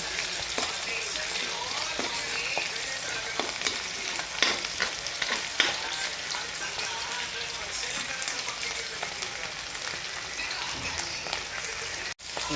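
Garlic frying in a pan for igado, a steady crackling sizzle with scattered stirring clicks, faint background talk now and then.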